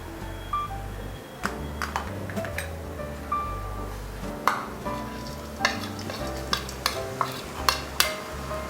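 Ginger frying and being stirred in a pan for egg Manchurian, with a low steady sizzle under repeated sharp scrapes and clinks of a spatula against the pan, close and fairly quiet.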